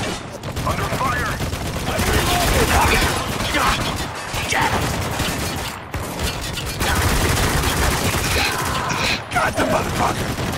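Sustained heavy gunfire fills a battle in the Spec Ops The Line video game: dense overlapping rifle bursts and impacts with a few brief lulls, while soldiers shout beneath the din.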